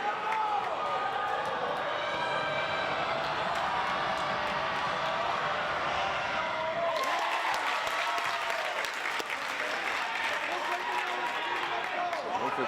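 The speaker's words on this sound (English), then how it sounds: "Milford student section applauding" A student section in the bleachers applauds during a high school basketball tournament quarter-final at Medfield, a broad, steady rumble of clapping that grows louder partway through, with a commentator talking over it.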